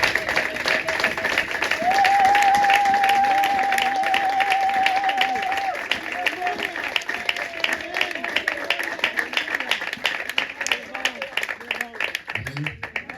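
A church congregation at a Sunday service claps and cheers, the applause steady and strong at first and then continuing in looser bursts, with a sustained tone and voices mixed in.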